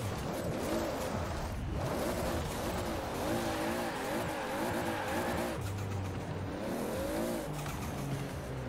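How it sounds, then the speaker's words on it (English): A Toyota Supra engine revs and shifts through gears at high speed in Forza Horizon 4, with tires squealing and skidding throughout, loud and close. "the Supra makes some real, real good noises."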